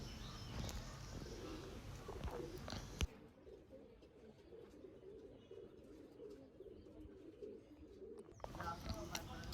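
A pair of Andhra Lalsira pigeons coo softly in a loft, low murmuring coos under loud handling noise and rustle at the start and end, with the quieter middle stretch letting the cooing come through.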